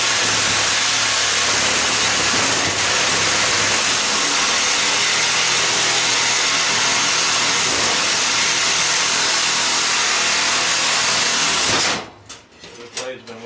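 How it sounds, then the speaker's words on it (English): Power saw blade cutting through the metal axle shaft of a fan inside an old gas stove being scrapped, a loud continuous grinding buzz for about twelve seconds that then cuts out, leaving scattered handling clatter. "So may have to see if I can cut that axle or the shaft."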